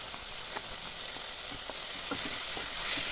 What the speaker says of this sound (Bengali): এর মধ্যে আমি দিয়ে দিচ্ছি রসুন আর যে কাঁচা লঙ্কাটা আমি বেগুনের ভেতরে দিয়েছিলাম সেটা